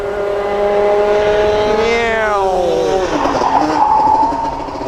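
Race car tires squeal loudly in a long, wavering screech that bends in pitch as the car slides through a corner, with engine noise underneath.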